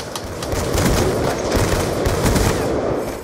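Dense, rapid gunfire fills a Black Ops 2 Gun Game match, with close, loud overlapping shots that rattle on without a break.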